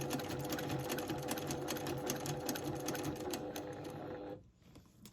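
Sewing machine running steadily through free-motion quilting, stitching a flower design on a quilt block with a ruler, a fast even mechanical whir that runs loud and continuous before stopping abruptly near the end.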